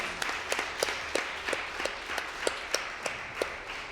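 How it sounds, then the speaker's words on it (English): Scattered clapping from a small speedrun event audience at PACE2019, with distinct individual claps repeating at a steady, sparse rhythm, moderately loud and close, with no talking over it. "I think we should get a round of applause for that."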